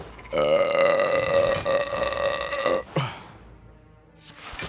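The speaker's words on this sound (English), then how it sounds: "That was me stuttering saying a burp." A person lets out a loud, close, drawn-out burp lasting about two and a half seconds, followed by a short grunt-like tail and quieter background noise.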